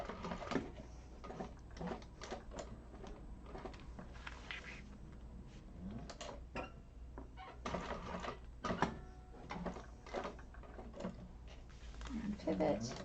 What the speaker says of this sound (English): I'm going to go ahead and start top stitching without back stitching